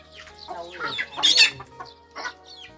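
Bantam chickens in a rural hill-tribe village cluck in a series of short, close, fairly loud calls, alone without talk.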